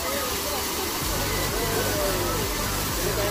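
Rushing water from an artificial fountain and waterfall at Company Garden in Mussoorie, a steady broadband hiss running unbroken throughout, with a low rhythmic rumble underneath in the second half.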